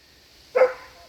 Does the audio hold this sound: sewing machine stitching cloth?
no